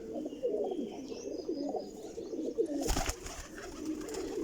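Female pigeons of a Sialkoti breed coo in a loft, a steady run of soft low burbling calls close by, with a brief rustle or flutter partway through.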